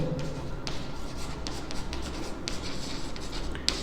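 A pen or pencil writes on paper during a maths lesson on cylinder surface area and volume, steady close scratching strokes with small taps, continuous and fairly clear, no speech.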